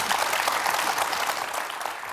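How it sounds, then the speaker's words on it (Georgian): Studio audience applause at a Georgian medical talk show, a dense, steady clapping that fills the whole stretch at an even level, with no voices over it. "ტაში უნდა ერთი."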